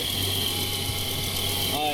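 An Isuzu Rodeo engine idles with a steady hum and a faint rhythmic ticking from one side of the motor, heard up close with a person talking over it.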